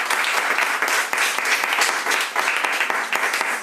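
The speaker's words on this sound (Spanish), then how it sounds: "Dale un aplauso al Señor, hermano." A church congregation applauding during a sermon, a loud, dense wash of clapping that runs continuously with slight rises and dips.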